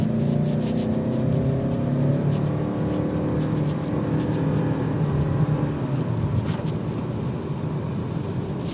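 A 2024 Lexus ES 300h F Sport hybrid with a 2.5-liter inline four accelerates hard from a stop, its engine drone rising steadily under road and wind noise heard from inside the cabin, without speech.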